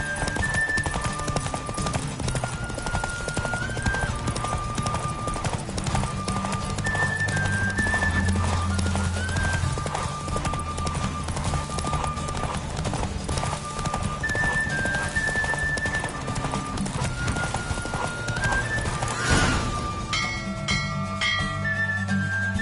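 A horse gallops with rapid clip-clopping hooves and neighs during a race in The Witcher 3 video game, hoofbeats driving steadily under game music that fades toward the end.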